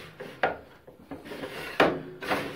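Metal part of an Aldi Ferrex 10-inch bandsaw sliding after its nut is tightened, a few short scraping rubs and light knocks, close and fairly quiet with no talking.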